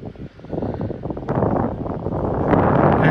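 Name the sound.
strong wind on golf course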